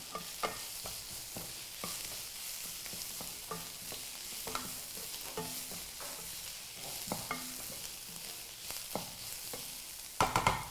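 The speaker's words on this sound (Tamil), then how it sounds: "பொடியாக அரிஞ்சு வச்ச வெங்காயம், அது வேகும் அதோடையே நான் வந்து பச்சை மிளகாயும் ஆட் பண்ணிட்டேன்" Chopped onion and green chillies fry in oil with peanuts, making a quiet sizzle punctuated by frequent spatula scrapes and taps, with a louder burst of stirring at the close.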